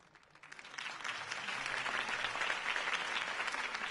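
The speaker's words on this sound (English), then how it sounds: "could have heard that applause" A crowd breaks into applause after a campaign speech, swelling quickly and holding steady, a dense wash of clapping heard from a moderate distance.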